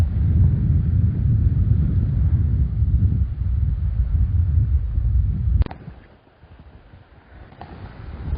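Wind roars steadily over the sea aboard a fishing boat near the Geumo Islands, a loud, dense rush that cuts off abruptly partway through, leaving a quieter low rumble.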